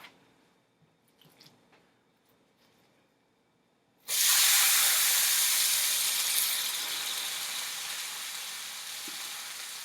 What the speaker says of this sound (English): When the pan looks hot enough, go ahead and add your steak into the pan.